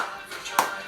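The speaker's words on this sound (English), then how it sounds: "Let's clap for joy." Children in a preschool Sunday school class clap their hands once, a single sharp clap heard against faint voices in a room.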